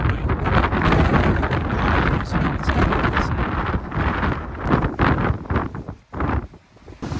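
Strong, relentless wind buffeting the summit of Kentmere Pike in the Lake District in June, a loud continuous roar with gusts surging and dropping near the end.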